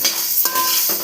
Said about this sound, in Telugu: గోధుమలు కూడా ఇలా కలర్ వచ్చినంత వరకు వేయించుకోవాలి